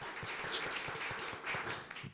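A small podcast audience gives a round of applause, steady and even clapping at moderate volume lasting a couple of seconds with no talk over it.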